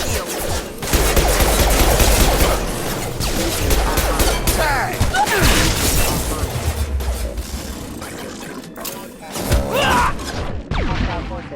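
Gunfire in a Mass Effect 2 battle, a loud, sustained volley of rapid shots mixed with crashing impacts and thuds, with some voice chatter underneath and a brief lull before bursts resume.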